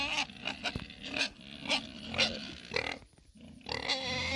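Pigs in a pen scuffle with each other, giving repeated grunts and squeals in uneven bursts at close range, with a brief lull before the rustling noise returns.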